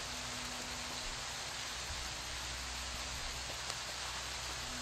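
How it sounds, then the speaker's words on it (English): Rain falls steadily in Fallout: New Vegas, a soft, even hiss of heavy downpour with a faint low hum beneath it and no voices. "Raining as hell"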